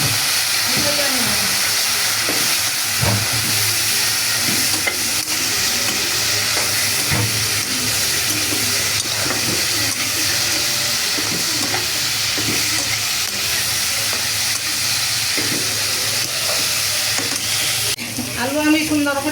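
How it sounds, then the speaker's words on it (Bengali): Potatoes frying in a pan with spices, green chillies and a splash of water, giving a steady close sizzle and hiss throughout with occasional stirring scrapes, and brief faint talk. "আলু আমি সুন্দর করে ভাজিয়ে নিলাম।"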